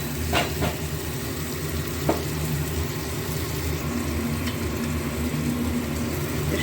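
Steamed young jackfruit goes into a masala already fried until the oil separates, for a vegetarian mutton-style curry. It makes a sustained loud sizzle with a few sharp clatters from stirring and no voices.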